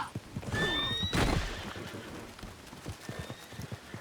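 A horse neighs loudly in a rising, shrill whinny, followed by scattered hoof clops and rustling nearby.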